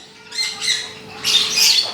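Fischer's lovebirds, including blue and Mauve Par Blue birds, squawk loudly and close by in two shrill, harsh bursts separated by a short pause.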